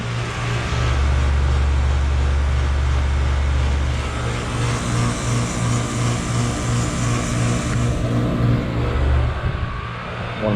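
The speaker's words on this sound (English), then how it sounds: "that was a full defrost cycle of a 1987 Bryant heat pump" A 1987 Bryant one-and-a-half-ton heat pump runs steadily after a full defrost cycle, with a loud continuous low motor hum and fan whoosh that shifts slightly in pitch near the end.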